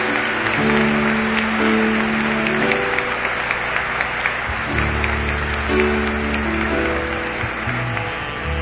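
A church congregation applauds after the Gospel reading at Mass, steady clapping over sustained organ or keyboard chords that continue throughout.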